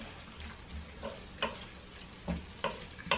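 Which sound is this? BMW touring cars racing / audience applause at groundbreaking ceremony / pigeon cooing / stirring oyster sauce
stirring oyster sauce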